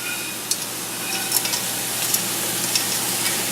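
Cooked bacon is stirred into green beans in a hot pan, giving a steady frying sizzle with small scraping clicks from the utensil and no voices.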